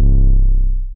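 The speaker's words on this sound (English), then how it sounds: "An 808 is basically a bass sound." A single deep, booming 808 bass note from FL Studio, loud and heavy, sliding gently downward as it sustains for about a second before cutting off.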